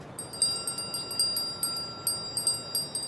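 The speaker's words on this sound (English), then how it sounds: "Ophidian chime. Snakes within hearing must fall asleep." A magical ophidian chime in Life is Strange: True Colors rings with bright, repeated metallic tinkles over a steady tone, each strike fading quickly in a clear rhythmic pattern, no talking.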